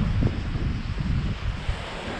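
Waves washing into a quiet bay by the sea on Naxos, a low continuous rumble of surf heavily mixed with gusting wind buffeting the microphone, steady throughout with no one talking.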